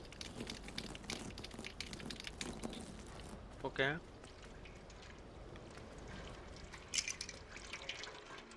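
A cat laps water in the video game Stray: a short burst of wet lapping sounds amid steady ambient game noise, with someone talking over it.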